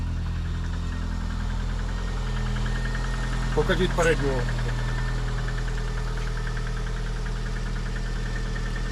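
A VAZ-21099 car engine idles with a steady low hum throughout, and a person speaks briefly partway through.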